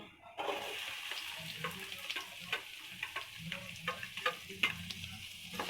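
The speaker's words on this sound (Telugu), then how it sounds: "ఇప్పుడు మనం ఆనియన్స్ అండ్ చిల్లీ వేసుకోవాలి" Onions and chilli tossed into a hot pan while making chicken fry, with a sudden onset of sizzling followed by steady frying and repeated clicks and scrapes of a spatula stirring, moderately close.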